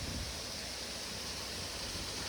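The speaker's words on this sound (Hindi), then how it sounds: "झील के ही बिल्कुल सामने है ये वाटरफॉल" Steady, dense rush of falling water from Juddo waterfall near Juddo village, Vikasnagar, Dehradun, Uttarakhand, set beside a lake; a continuous broadband roar with no pauses and no voices.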